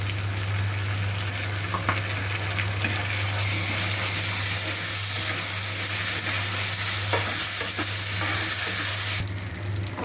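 Onions frying with ginger garlic paste in a pan send up a steady, loud sizzle with occasional stirring scrapes, the hiss brightening midway and easing near the end, with no voices.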